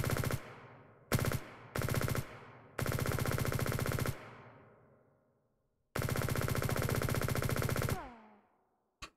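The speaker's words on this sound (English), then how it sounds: "And there's a new gun." SMG fire in the open-source FPS Liblast, several sharp full-auto bursts of varying length separated by silences, the last burst long, each tail ringing out with echo.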